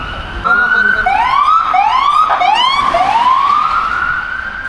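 A wailing ambulance siren rises and falls in repeated sweeps, loud and close, crossing over a railway line, over low background rumble and faint voices.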